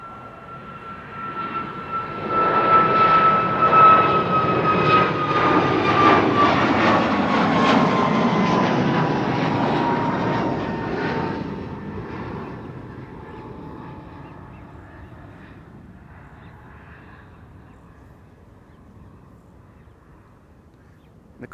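Air Europa Boeing 737 Max 8 jet at Amsterdam Schiphol Airport, departing for Madrid, a broad engine roar with a whining tone that swells, peaks, then slowly fades into the distance, faint bird squeaks nearby.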